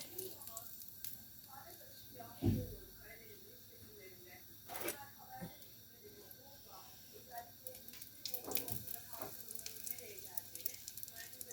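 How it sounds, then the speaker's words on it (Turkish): Soft sizzling of cheese pastry frying in a pan, a steady crackle with occasional clatter and brief voices underneath. "Şöyle kenarlarını falan da kızartıyorum ki canlar şey olsun diye."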